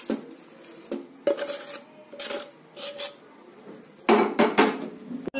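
A carrot modak mixture for a Ganesh Jayanti sweet being scraped out of a metal pan onto a plate in several short bursts of scraping and clinking, close up, with pauses between strokes and no talking.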